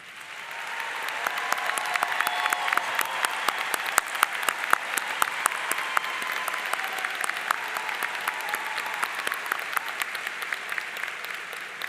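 Audience at a university graduation ceremony applauding first-generation students, with loud, sustained clapping from a large indoor crowd lasting the whole time.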